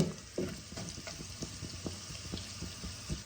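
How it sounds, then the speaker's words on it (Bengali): Onions fry in a pan until reddish, a low sizzle broken by repeated soft knocks and scrapes of a spatula turning them, fairly quiet and close, with no talking. "পেঁয়াজগুলো আমার লাল লাল করে ভাজা হয়ে গেছে।"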